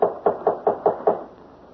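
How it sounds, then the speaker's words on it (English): A second round of knocking on a door, six sharp, close knocks in a steady quick rhythm, then quiet. "I'll knock again."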